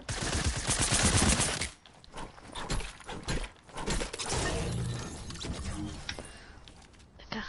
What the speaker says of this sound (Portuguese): E se eu te disser que estão aos tiros comigo?